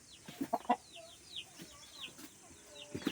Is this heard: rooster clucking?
yes